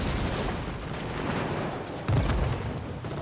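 Naval guns thunder and shells burst in a warship video game battle, a continuous dense rumble of gunfire and explosions with a heavier boom near the end, no voices over it.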